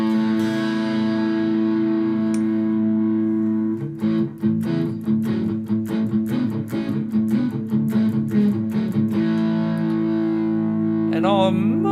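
An electric guitar plays through a Toad overdrive distortion pedal, with a sustained fuzzy chord followed by rapid, rhythmic strummed chords, loud and continuous with a thick, saturated tone.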